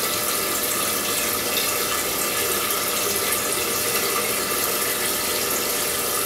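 Tap water pours steadily into a pot being filled about halfway for Korean rice wine, a loud continuous splashing rush with no pauses and no talking.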